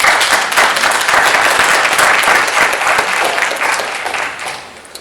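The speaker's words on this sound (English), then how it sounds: "Let's have a round of applause." Audience applause breaks out after a student's graduate conference talk, a dense sustained wash of many hands clapping that holds steady for several seconds before thinning out near the end.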